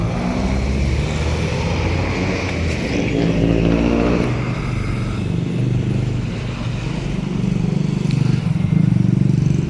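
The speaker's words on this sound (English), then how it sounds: "Downtown traffic is light for this time of day" Steady downtown street traffic in Iloilo, Philippines, with car and motorcycle engines passing and revving close by, forming a continuous loud rumble throughout with no talk.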